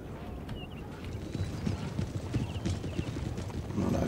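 Cavalry horses from Napoleon Total War walking with steady, overlapping hoof clip-clops, moderately close, accompanied by faint creaking and mechanical rattles, growing a little louder toward the end.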